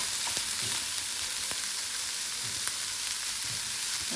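Potatoes, garlic and onion fry in a pan, giving a loud, steady sizzle that runs unbroken throughout, with a few faint stirring scrapes mixed in.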